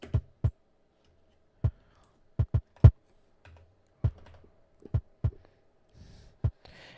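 Isolated electronic kick drum hits in a sparse, irregular pattern, each a short, punchy low thump with a quick decay and near-silence between strikes, about a dozen in all.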